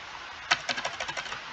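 Computer keyboard keys tapped in a quick run of about ten sharp, clicky strokes, close and fairly quiet, heard alone with no voices.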